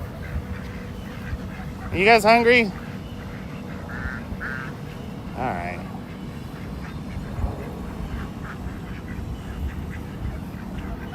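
Ducks quack in a loud burst of harmonic calls at a greenhouse feeding area with geese nearby, followed by fainter scattered quacks, while a person speaks over the steady background.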